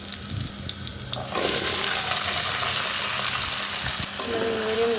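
Papaya and ridge gourd go into hot tempering oil, setting off a sudden loud, steady sizzle and hiss that continues without a break.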